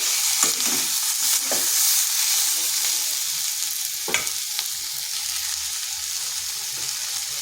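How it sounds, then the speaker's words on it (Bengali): Diced potatoes and pointed gourd sizzle steadily in oil in a pan over low heat, a continuous crackling fry broken by a few sharp scrapes and clinks of a stirring spatula, with no voices. "এইভাবে বেশ কিছুক্ষণ আরবার ভেজে নেব।"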